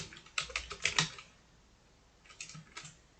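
Keys clatter on a computer keyboard while code is typed, two quick bursts of close, crisp clicks separated by a short pause.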